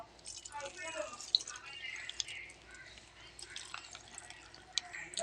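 Milk poured into a mixer jar for a pong shake trickles and drips faintly and close by, while a voice talks over it.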